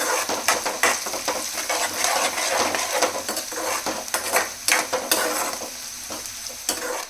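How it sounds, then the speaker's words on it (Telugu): Curry leaves fry in oil in a pan with a busy, crackling sizzle, while a spatula repeatedly scrapes and clatters against the metal in quick irregular strokes, loud and close. "మొత్తం గోల్డెన్ బ్రౌన్ కలర్ వచ్చే వరకు ఫ్రై చేసుకోవాలి ఫ్రెండ్స్."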